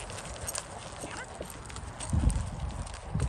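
A Rocky Mountain Horse's hooves thud in a soft, uneven rhythm as it moves into a canter during gaited horse training, with low, muffled beats under outdoor noise and a voice speaking.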